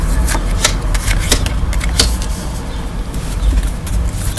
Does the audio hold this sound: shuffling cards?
yes